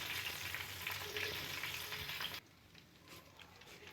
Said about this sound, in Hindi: चिकन हमारी बहुत अच्छे तरीके से फ्राई हो गई है